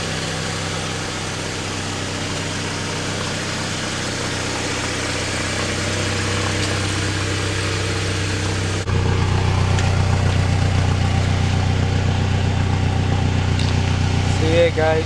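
Up close at the exhaust, a 2006 Toyota Tacoma TRD with a 5-speed manual idles in a steady, low, even rumble that grows slightly louder and throatier partway through.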